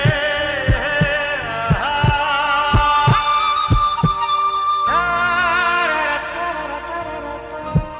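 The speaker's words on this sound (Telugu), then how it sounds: "అదే గుండె చప్పుడు, అదే పులకరింత." A heartbeat sound effect from a Telugu TV serial plays as steady, deep, evenly spaced thumps under a sustained dramatic musical drone.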